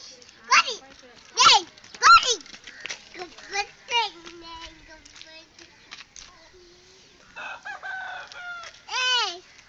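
Chickens cluck and a rooster crows at a childhood village home, with a few loud calls near the start and a rising crow near the end, while children speak in between.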